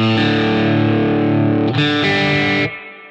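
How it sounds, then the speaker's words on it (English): An electric guitar rings out through an amp with distorted tone and a dark, washy reverb, its tone control set fully dark, one sustained chord then another before the sound fades away. "The reverb has a tone control it's dark, all the way dark right now."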